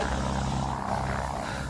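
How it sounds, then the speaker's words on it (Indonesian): Airplane passing overhead in a desert outback scene of a film: a steady, low droning engine rumble with broad airy noise, continuous and fairly close throughout the short stretch, no voices. "Wade sempat melihat pesawat melintas, tapi sayangnya pesawat itu tidak melihatnya."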